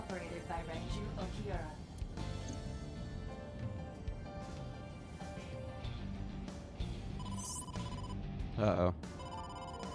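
Video game phone ring for an incoming call, a trilling electronic ringtone heard near the end over steady game music and sound effects, with a character voice speaking briefly.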